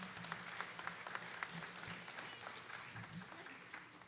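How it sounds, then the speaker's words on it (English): Audience at the New York Mills Regional Cultural Center gives a round of applause after the annual Great Think-Off event, a fairly quiet, steady patter of clapping heard from a distance in a room. "how about a round of applause for Betsy, Roeder, and everyone at New York Mills Regional Cultural Center"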